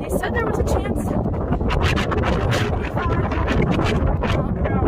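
Strong gusts buffet the microphone on a windy Appalachian Trail mountain descent, a loud, continuous roaring rush with rapid flutters and no pauses.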